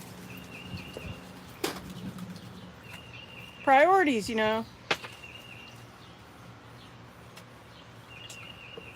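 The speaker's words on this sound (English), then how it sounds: "there's a bird out here somewhere, and it was getting loud" A bird calls outdoors with one short, loud warbling burst of rising and falling notes midway. Someone speaks around it, and faint background noise runs throughout.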